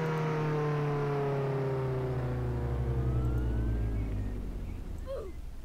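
Car engine in the Roblox game Jail-Break, a steady whirring motor hum with a slowly shifting pitch, heard alone and fairly close.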